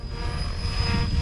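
A radio-controlled model helicopter on its maiden flight, a steady close whine of rotor and motor with a high constant tone over low rumbling wash, no voices.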